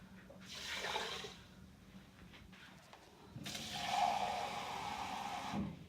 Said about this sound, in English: So I'm putting 3 cups of water in with the rice.